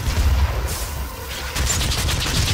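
Gunfire in the video game DOOM: dense, continuous blasting with heavy low-end thumps, briefly thinning near the middle and then resuming loud and sustained, with no talking.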